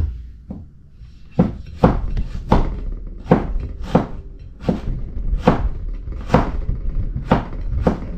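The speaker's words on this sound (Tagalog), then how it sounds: "Hiwa-hiwa lang po tayo." Unpeeled ginger sliced with a knife on a cutting board: about a dozen sharp, close wooden knocks in an even, steady rhythm, each chop crisp and loud against a quiet background, with no talking.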